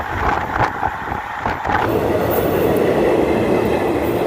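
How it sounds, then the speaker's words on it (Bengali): A passenger train pulls away from Tarapith Road station toward Rampurhat with a loud, close, continuous rumble. Faint rhythmic wheel clatter runs under a steady roar of rolling stock. "ট্রেন আমাদের তারাপীঠ রোড স্টেশনে নামিয়ে তার গন্তব্যে চলে গেল রামপুরহাটের দিকে"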